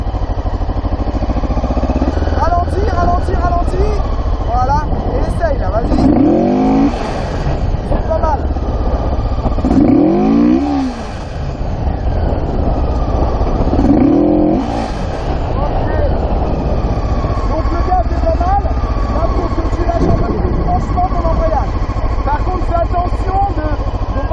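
Motorcycle engine during a riding lesson, with a steady idle and three rising and falling revs spaced a few seconds apart, close and loud under an instructor's talk.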